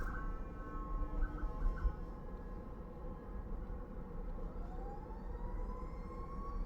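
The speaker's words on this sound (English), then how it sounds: "I hear a siren." An ambulance siren wails in the distance, heard from inside a car, rising slowly in pitch over steady traffic and engine rumble.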